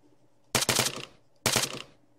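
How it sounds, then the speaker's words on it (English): Two short, loud bursts of rapid automatic gunfire ring out in the Arma 3 military game, each lasting about half a second with a brief echo tail and a pause between them. "Someone's shooting at me."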